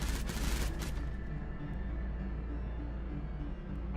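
Explosions and attacks in the video game Mindustry: a loud burst of rapid crackling blasts up front, then a continuous deep booming rumble of battle with scattered low thuds over several seconds.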